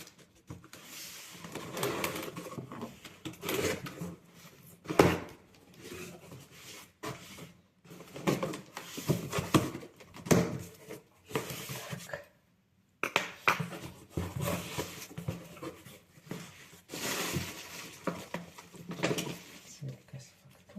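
Rustling, crinkling packaging and scraping handling noises come from a parcel containing protein and a shaker being opened at close range, in irregular bursts with brief pauses, while a person talks.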